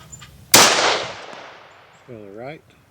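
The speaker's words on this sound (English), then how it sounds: "I want to shoot a couple bowling pins. This is that 77 grain bullet again." A Springfield Armory Hellion rifle firing a 77-grain bullet at bowling pins lets off one loud, sharp shot with a long decaying echo, followed by a brief faint ringing impact.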